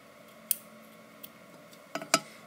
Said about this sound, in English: I'm going to try another little cut here.